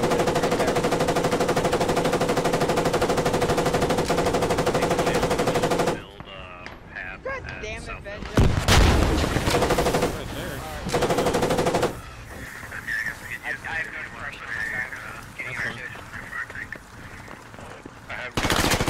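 Automatic gunfire from a military shooter game, with sustained bursts of machine-gun fire, a heavy blast in the middle and scattered shots, loud and close, while a player talks over parts of it.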